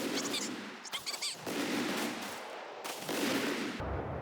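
Bursts of gunfire in the real-time strategy game Company of Heroes 3 as units behind tank traps come under fire, several loud rattling volleys separated by brief gaps, with no talk.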